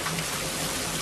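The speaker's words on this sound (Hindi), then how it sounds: "और फिर थोड़ी देर के बाद बारिश रुक जाती है" Rain falls in a Hindi cartoon about birds, a dense, even hiss of drops that fills the short moment without voices.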